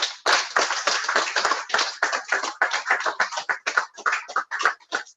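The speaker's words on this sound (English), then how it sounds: "If you think that is good, please clap for this company." A small audience at a business convention claps loosely and unevenly, with distinct close hand claps in a ragged rhythm that thins and scatters toward the end.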